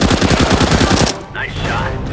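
Video game gunfire erupts in a rapid, loud automatic burst of evenly spaced shots for about a second, then stops, leaving fainter game sounds and a brief tonal effect.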